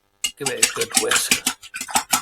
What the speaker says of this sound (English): Give it a good whisk.